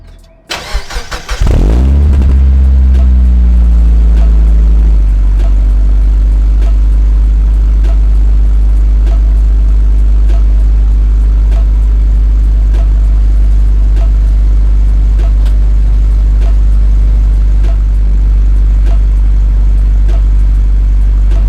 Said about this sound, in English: I'm gonna give you guys a nice cold start just to let you hear what it sounds like.